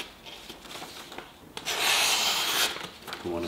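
A Böker Magnum rescue knife blade scrapes across a whetstone in close, gritty rasping strokes, the loudest stroke sustained in the middle before a voice begins at the end.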